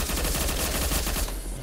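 Rapid, dense gunfire rattles in the top-down battle royale game Surviv.io, a continuous burst of automatic shots that stays loud for over a second before thinning out.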